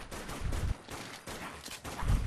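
SMG gunfire in the video game Dead Nation, a dense, loud burst of rapid shots continuing for a couple of seconds with brief gaps, mixed with game effects.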